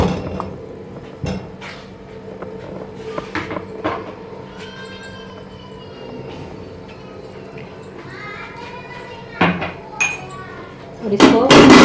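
Clinks and taps of a metal spoon against a pan while desi ghee is scooped in to melt, scattered sharp knocks over a quiet kitchen background, with someone talking at times.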